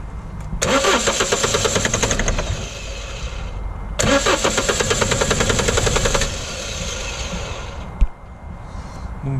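HDI/DCI diesel car engine being cranked by the starter in two separate attempts, each a loud, rapid rhythmic churning lasting a couple of seconds, followed by a sharp thump and a quieter running engine.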